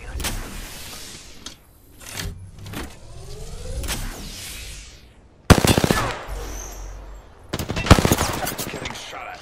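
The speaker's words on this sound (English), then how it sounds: "Getting shot at." Gunfire in the battle royale game Apex Legends, heavy bursts of shots landing in two loud clusters over background game noise, with mechanical whirs and clicks between them.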